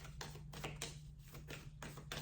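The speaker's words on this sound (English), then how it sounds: "Let's shuffle a little bit more." An oracle card deck is shuffled, cards riffling and slapping together in quick repeated bursts, close and crisp, a rapid papery tapping that rises and falls across the few seconds.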